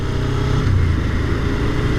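Suzuki SV650 motorcycle engine running steadily in third gear on a test ride, a loud, continuous low drone with wind noise, close and unbroken for about two seconds.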